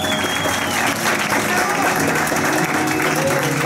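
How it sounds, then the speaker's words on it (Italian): Loud, continuous applause from an audience at a school show, many hands clapping densely and evenly, with talk mixed faintly beneath the clapping. "Applauso per Alessandro"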